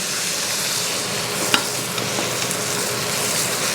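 A NY strip steak sizzles steadily on a hot Lodge cast iron griddle, giving a continuous loud frying hiss with a brief sharp crackle partway through.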